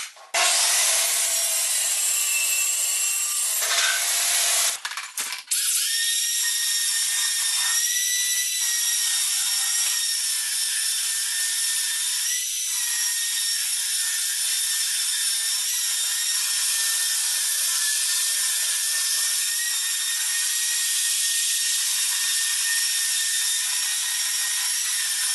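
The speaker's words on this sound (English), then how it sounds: "now I'm going to cut the back piece, which I'm going to use MDF to just give it some strength" Power saw cutting through an MDF back panel for a pallet wood media console, a loud, steady high-pitched whine that runs almost without pause, with a brief stutter near the start, close and alone without voices.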